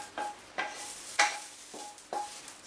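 Zucchini and aubergine pieces tipped into a cooking pot for a homemade curry, heard as four or five short clattering scrapes and soft metallic knocks at a steady pace, fairly quiet, with no talk.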